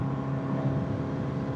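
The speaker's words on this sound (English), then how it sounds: "the exhaust is a little loud for a bike like this" A 1979 Honda CB750F motorcycle cruising at around 55 to 60 mph near 4,200 rpm gives a steady, loud exhaust drone with a low throb and wind rush, continuous and up close with no talking.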